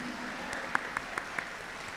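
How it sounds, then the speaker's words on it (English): Audience applause for Opal Lee, the Grandmother of Juneteenth, at an honoring event: a steady wash of clapping from a crowd, fairly faint and distant, with a few sharper claps standing out. "How about a round of applause for our very own Grandmother of"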